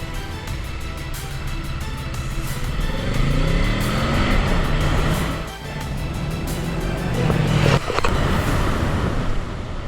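A motorcycle rides a slalom and a slow U-turn on a practice course, its engine droning steadily and rising and falling in pitch as the rider eases through the turns.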